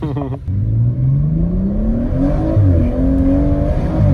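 A BMW M140i Stage 2 with an Akrapovic exhaust accelerates hard, its engine note climbing through the revs in a loud, close rising drone, with a brief break for a gear change before it pulls up again.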